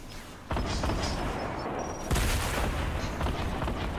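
A rocket launched in a shooter video game, with two sharp booming blasts, the second louder, followed by continuing rumble and scattered crackle of in-game combat, no talking.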